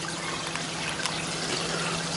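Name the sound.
water squirting out of an Aqua One Aquis 1200 canister filter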